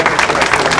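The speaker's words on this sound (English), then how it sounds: "Let's give him a round of applause." Brief burst of audience applause at a university athletics Hall of Fame ceremony, dense steady clapping filling the whole short moment at close range.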